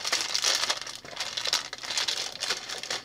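Plastic bags holding Diamond Blocks building pieces crinkle and rustle close by in continuous bursts of sharp, crackling handling noise, uneven and moderately loud, with no speech.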